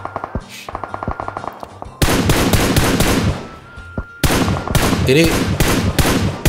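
PUBG Mobile gunfire rattles in loud, dense bursts of rapid automatic shots, with brief quieter gaps between volleys and faint game sounds underneath.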